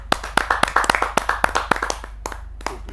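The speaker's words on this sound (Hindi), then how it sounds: "तालियों से स्वागत करते हैं।" Claps from a small gathering welcome a poet at a Hindi poetry recital, sharp close hand claps in an uneven rhythm that thin out toward the end, over a low steady hum.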